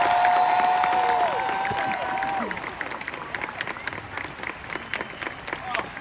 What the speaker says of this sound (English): would you please give an amazing round of applause for the Hollywood Bowl Orchestra?